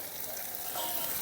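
Carrots, onion and green chili sizzle in a pan with turmeric and salt for an upma, a close steady frying hiss with no voices.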